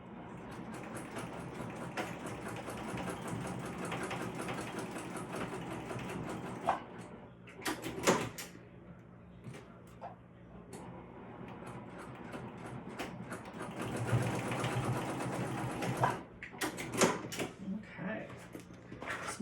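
A sewing machine stitches a seam on a wax canvas crossbody bag, with bursts of rapid mechanical whirring and clicking between pauses as a person talks over it.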